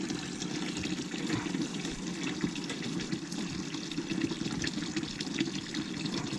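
Water draining out of a steam boiler through an opened drain, a steady rushing splatter of liquid that runs continuously at moderate, fairly close volume.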